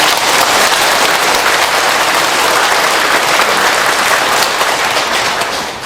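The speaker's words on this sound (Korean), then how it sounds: "우리 곁에 와주신 예수님에게 다시 한번 감사의 박수" A church congregation applauds at Christmas night mass, a dense, loud, steady wash of many hands clapping that fills the room for several seconds before starting to fade.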